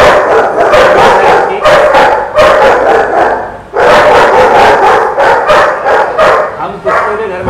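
Several German Shepherds bark and yip loudly and continuously at a breeder's home. The barking is near and dense, with overlapping dogs and a brief lull partway through, and a voice can be heard among them.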